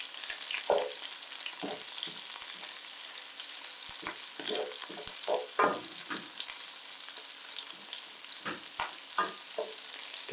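Snap peas hit a hot frying pan of garlic, olive oil, butter and garlic scapes and sizzle steadily, with irregular scraping and stirring clatters rising over the constant frying hiss.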